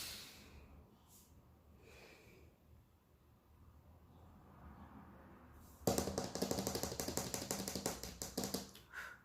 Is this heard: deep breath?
yes